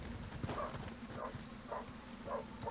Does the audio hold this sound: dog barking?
yes